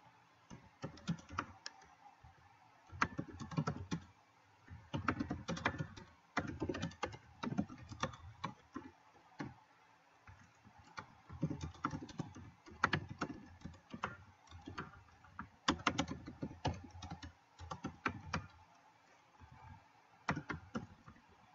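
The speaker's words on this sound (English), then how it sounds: "I feel like typing." Bursts of typing clatter on a computer keyboard, close and crisp, in irregular runs of rapid keystrokes separated by short pauses.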